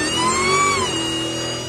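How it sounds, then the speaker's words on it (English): A car's engine supercharger whines as a rising then gliding high-pitched tone over a steady engine hum, loud and close, lasting under two seconds with no other sounds. "That supercharger whine is like a banshee living under your hood."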